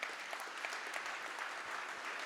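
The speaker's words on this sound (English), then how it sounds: "Let's give David Minton a big round of applause" Audience at a conference applauds a speaker, a short, faint but dense patter of many hands clapping that holds steady without voices.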